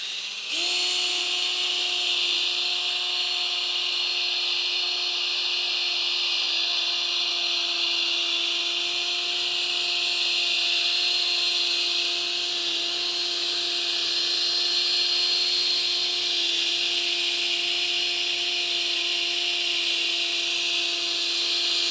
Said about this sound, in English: just let the drill basically do everything